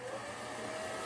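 A dog grooming vacuum running while it sucks up long guinea pig hair, giving a steady, fairly quiet whirring hum with a faint tonal whine and no variation in level.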